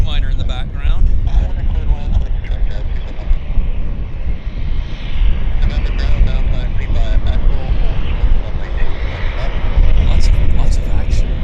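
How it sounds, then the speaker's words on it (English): A Beechcraft King Air or Beech 99 at Vancouver airport gives a loud, steady engine drone mixed with wind rumble, with people talking over it throughout. "Here's that American King Air, or Beach 99."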